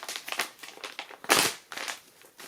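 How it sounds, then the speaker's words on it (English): Crinkly plastic bag of a small first aid kit being handled and opened, giving close-up rustles and crunches with one louder crumple in the middle. "So let's open the .3 kit first. So it seems to be just a plastic bag, which probably would stay waterproof."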